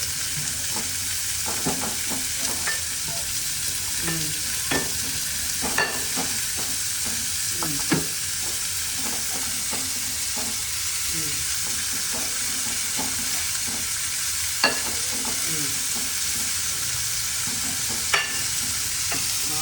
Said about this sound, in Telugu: ఉల్లిపాయలు అన్నీ కూడా వేసేద్దాం, పనిలో పని అయిపోతాయి.